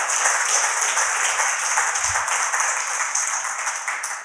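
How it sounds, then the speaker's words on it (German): Steady, dense applause from a live audience at a podcast recording in an old school hall in Leipzig during the Leipzig Book Fair, loud and continuous throughout with no talking. "Ein Applaus."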